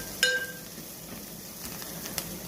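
Gram flour frying in a pan for poori curry, a soft, quiet sizzle with a single bright metallic clink near the start.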